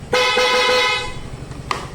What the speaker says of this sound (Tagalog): Tapos yung loud horn.